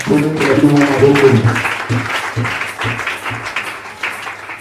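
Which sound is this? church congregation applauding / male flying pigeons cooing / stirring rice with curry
church congregation applauding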